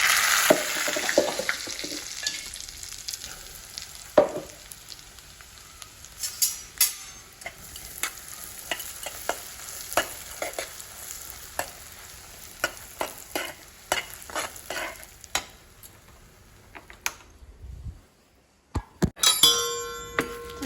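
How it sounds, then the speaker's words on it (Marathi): Crushed peanuts frying in hot oil in a pan on a gas stove, a steady sizzle under repeated clinks and scrapes of a stirring spoon, ending in a short pause and a final burst of clatter. "आता तेल तापत ठेवले तर पहिले शेंगदाणा टाकायचं"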